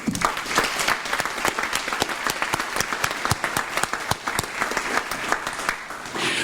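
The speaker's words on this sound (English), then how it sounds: "I think all of us should give a big round of applause" A large audience at Parkland College's 50th anniversary kickoff breaks into a big, dense round of applause, loud and sustained for several seconds without a break.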